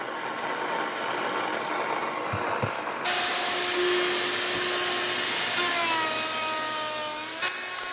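A router cuts a housing in a wooden stair stringer through a template, starting with a sharp switch-on and loud high whine that shifts pitch as it cuts, then winds down.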